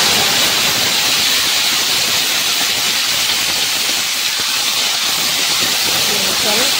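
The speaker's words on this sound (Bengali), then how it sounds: "তো ভোলা মাছ ভাজা হচ্ছে লবণ হলুদ মাখিয়ে" Bhola fish frying in hot oil with salt and turmeric in a home kitchen. A loud, constant hiss and sizzle fills the whole stretch with no pause, and a voice can be heard faintly under it.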